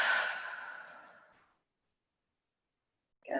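A person exhales in one long, audible breath during yoga breathing; it is close and fades out over about a second and a half, then silence follows before a faint new breath begins.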